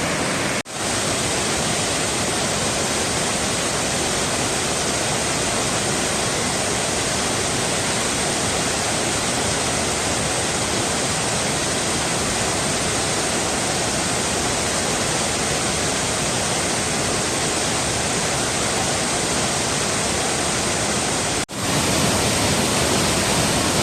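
Malela waterfall roars as a powerful, broadband rush of falling water, loud and unbroken throughout, with no voices audible over it.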